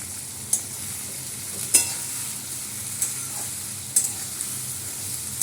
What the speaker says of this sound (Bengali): এটা একটু ভালো করে ভাজা ভাজা হয়